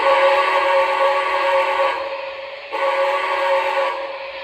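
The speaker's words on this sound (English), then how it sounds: "Here is the whistle, take 2." Whistle of a model train sounding in two long steady blasts, each about two seconds with a brief break between, close and fairly loud with no talk.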